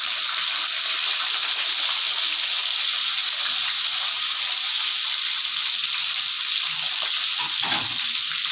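Dried anchovies fry in hot oil with mustard seeds and dried red chilies, a loud, dense, continuous hiss and sizzle close up with no talking.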